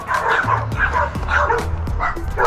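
Several dogs bark and yip excitedly at a delivery person, a loud overlapping burst of sharp barks repeating throughout with a few whiny yelps mixed in.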